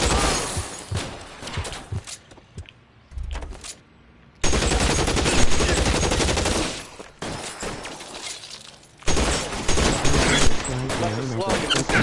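Video game shootout with rapid bursts of automatic gunfire and shattering impacts, loud and close, broken by short lulls, with shouted voices mixed in between the volleys.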